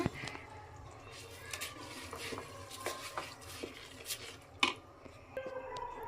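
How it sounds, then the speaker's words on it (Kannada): Rice frying with mushroom gravy in a pan for biryani, stirred with a utensil: soft scraping and clinking strokes at an irregular pace, close and fairly quiet, with one sharper metallic knock near the end. "ರೈಸ್ ಹಾಕ್ಕೊಂಡು ಒಂದು ಫೈವ್ ಮಿನಿಟ್ಸ್ ಆ ಗ್ರೇವಿ ಜೊತೆ ಚೆನ್ನಾಗಿ ಫ್ರೈ ಮಾಡಿಕೊಂಡ್ರೆ ಉಪ್ಪು ಖಾರ ಎಲ್ಲ ಚೆನ್ನಾಗಿ ಹಿಡಿಯುತ್ತೆ"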